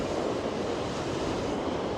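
Ocean surf on the shore of the Eyre Peninsula in South Australia makes a steady, broad wash of noise, with wind buffeting the microphone throughout and no voices.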